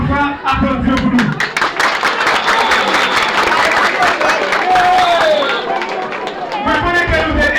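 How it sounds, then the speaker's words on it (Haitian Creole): A crowd applauding and cheering at a Haitian political campaign rally, sustained loud clapping with whistles and voices throughout, someone speaking over it at the start and end. "nous devons encore une fois applaudir pour nous"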